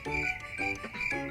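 Crickets chirp in a steady, pulsing trill, played as a comic sound effect after a joke, close and clear with no talk over it.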